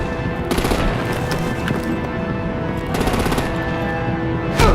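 Sustained heavy gunfire with artillery in a Telltale Batman video game: dense, loud, continuous bursts of rapid shots rolling on without pause, with a sharper blast near the end.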